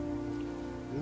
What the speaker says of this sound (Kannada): ಮಳೆ ಮರದ ನೀರೆಲ್ಲ ದಬ ದಬ ಅಂತ ಬೀಳ್ತದಲ್ಲ.